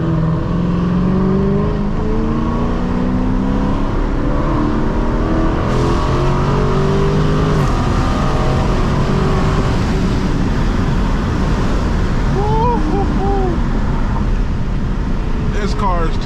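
A Dodge Challenger SRT 392 with a Borla ATAK exhaust accelerates hard from the driver's seat, its loud, continuous exhaust roar rising through gears over the whole stretch while people talk inside the cabin.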